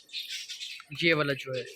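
A new, agitated pigeon calls out in a few short, harsh squawks and chirps, first a raspy burst and then clearer tonal calls, close by with a voice speaking over part of it.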